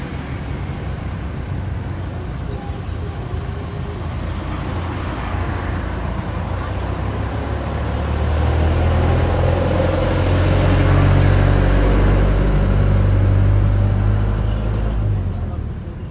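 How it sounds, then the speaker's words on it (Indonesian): A bus bound for Purwokerto passes on the road, its engine rumble building to a loud, close peak before easing off, with steady traffic noise beneath and a voice talking over it. "Ini bis yang arah Purwokerto nih teman."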